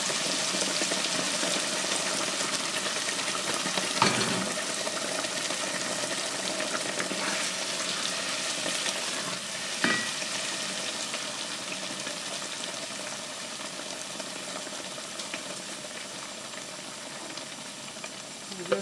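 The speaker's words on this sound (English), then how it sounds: "I'm going to add up the blended up ingredients, and it's gonna be the onions, the bell peppers, and then some garlic." Blended onions, bell peppers and garlic frying in a pan for okro stew give a steady, close sizzle and hiss that runs unbroken for the whole stretch, with a couple of brief clicks or stirs and no talking.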